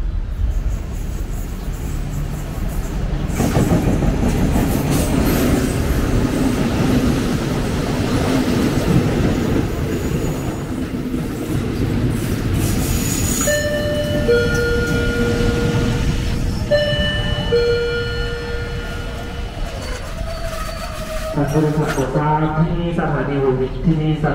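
A train passing at a station in Hua Hin, Thailand, a loud rumbling roll of rail cars that builds and then fades, followed by tonal horn and whistle-like notes, heard close without talk.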